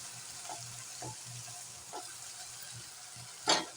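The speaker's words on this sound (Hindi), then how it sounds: "अब हमने जो गुआर फली उबाल कर रखी थी वो भून लेंगे" Boiled cluster beans (guar) being fried in masala in a pan, giving a low steady sizzle with periodic scraping stir strokes and one louder clatter near the end.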